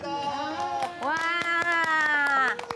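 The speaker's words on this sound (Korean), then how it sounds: "밑에서 기다리던 가족들이 박수를 보낸다" Family members waiting below clap after a roof repair is finished, with quick, scattered hand claps under loud excited voices cheering and calling out.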